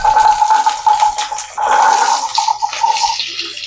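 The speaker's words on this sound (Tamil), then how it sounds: "நான் இப்போ வெங்காயத்தை போடுறேன்" Shallots and chilli drop into hot oil in a pan for a dosa chutney, setting off a loud, steady sizzle and hiss up close with a few clattering bumps.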